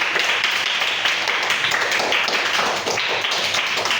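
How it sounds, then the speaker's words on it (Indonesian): Students in a classroom applaud a group's presentation with a dense, continuous patter of clapping hands, close and fairly loud, lasting the full few seconds with little speech. "Sekali lagi dong apresiasi untuk kita semua, tepuk tangan."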